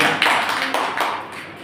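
Classroom audience applauding a student named Urmila Parmar at a personality development session, a short loud burst of many hands clapping together that fades out within a couple of seconds.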